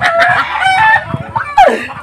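A rooster crows loudly and close by, a single rising then falling cock-a-doodle-doo over a busy, noisy background.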